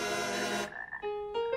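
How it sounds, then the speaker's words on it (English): Frogs croak in a cartoon, a dense buzzing chorus that breaks off into a few separate, higher, tonal croaks, loud and close with no talk. "You must get rid of these frogs."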